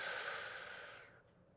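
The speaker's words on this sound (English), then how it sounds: "So we'll take a deep breath." A slow, deep inhalation through the nose or mouth during a calming breathing exercise, one long airy breath heard close and clear, fading gradually toward the end with no talking over it.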